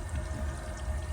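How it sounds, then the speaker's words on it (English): Water drains through a kitchen sink waste pipe and P-trap, giving a steady, close gurgling rush that runs continuously and loudly for the whole moment. "The water running out nicely."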